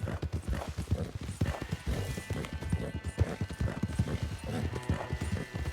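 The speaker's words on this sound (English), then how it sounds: "It was the stampeding hoofs, amigo." A stampede of horses, hooves pounding in a dense, fast, continuous clatter, close and loud throughout with no pauses.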